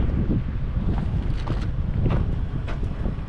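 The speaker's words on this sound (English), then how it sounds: "The wind's coming now" Steady wind gusting across an open hilltop on South Australia's Eyre Peninsula, a continuous low roar buffeting the microphone with brief rustling swells.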